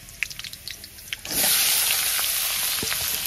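Vegetables tipped into a wok of hot oil and tempering spices burst into a loud, steady sizzle of frying, after a few soft clinks and drips. The sizzle holds close and even to the end.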